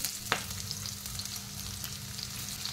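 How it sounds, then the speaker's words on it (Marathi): Chopped onion, bay leaves and whole spices sizzle steadily in hot ghee for a jeera matar pulao, a dense close crackle with one sharp clink of a utensil early on, no voices. "कांदा जो आहे तो चांगला परतून घ्यायचा आहे आपल्याला तुपामध्ये"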